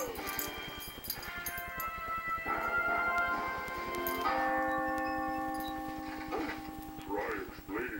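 A large bell rings with sustained, shimmering metallic tones that shift and restrike, layered over a rapid ticking pulse, loud and close throughout as the Liberty Bell sounds and cracks.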